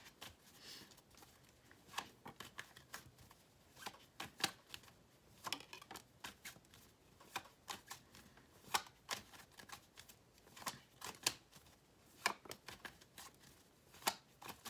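Cards being shuffled in quick riffling bursts by cold hands, crisp and close, repeated many times over a quiet background.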